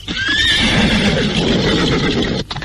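A horse neighs loudly and close by, one sustained whinny lasting over two seconds, with a faint clatter of hooves beneath it.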